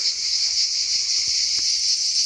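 Loud, steady buzzing of a cicada in southern France, close and continuous, with a few faint rustles and soft handling knocks underneath.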